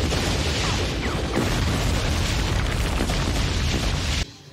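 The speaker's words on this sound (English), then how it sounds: "Oh, more explosions!" Loud, continuous explosion rumble from an 80s action movie's pyrotechnics, a dense sustained boom with crackling debris lasting several seconds before cutting off abruptly.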